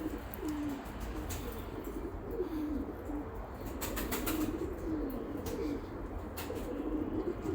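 Pigeons of a prized breed coo in soft, repeated rolling calls, with sudden bursts of wing flapping close by in a loft.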